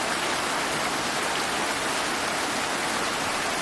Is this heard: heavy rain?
yes